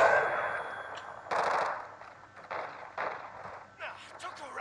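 Bursts of automatic gunfire in Call of Duty Modern Warfare II Warzone 2.0 DMZ, rapid rattling volleys starting and stopping over steady game noise, with players talking.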